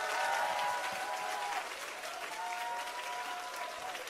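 Steady applause from a church congregation at an evening worship concert, continuous clapping filling the whole stretch at an even, fairly loud level, with a faint tone running underneath.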